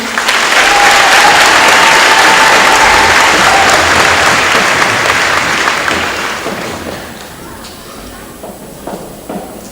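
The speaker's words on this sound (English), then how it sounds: "So give her a big round of applause" Loud, dense applause from a high school graduation crowd at the Lakota Tech 2022 commencement, steady for several seconds before gradually thinning and fading into scattered claps.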